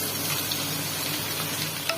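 Dense, steady sizzling of ground spice paste frying in hot oil, loud and close, with a faint clink of a utensil near the end.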